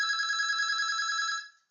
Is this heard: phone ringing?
yes